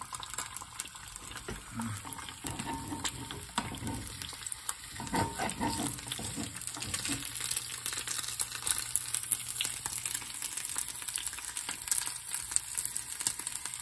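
An egg frying in a pan for a fried egg and cheese sandwich, with a steady sizzle and crackle running throughout, plus occasional scraping and handling noises from flipping, fairly close and moderately loud.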